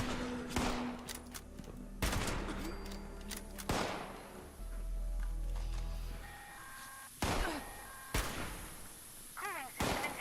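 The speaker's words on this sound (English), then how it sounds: "Alright, I'm shooting back." Return fire in Fallout 76 comes as several heavy, separate gunshots spaced irregularly across about ten seconds, each a loud sharp crack with a decaying tail, with a low rumble and mechanical game sounds between them.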